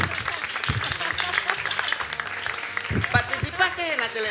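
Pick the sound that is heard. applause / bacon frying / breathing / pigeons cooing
applause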